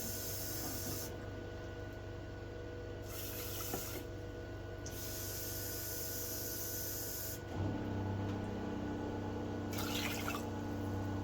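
Water pours steadily in a soft, continuous stream into a container in an RV kitchen, changing tone partway through as it fills; quiet and close, with no talking.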